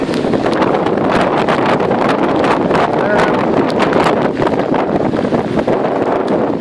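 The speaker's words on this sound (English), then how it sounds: "it's still quite windy" Strong, blustery wind roars steadily through trees, with constant rushing and buffeting against the microphone throughout, loud and close with no letup.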